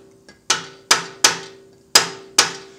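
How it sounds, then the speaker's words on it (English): A rubber mallet strikes a drill press arbor on a Porter Cable 15-inch PCB660DP five times in an uneven rhythm. Each blow is a sharp, close, ringing knock that decays quickly over a faint steady hum. "Now note, I'm using a rubber mallet for that, else you risk damaging both the arbor and the quill."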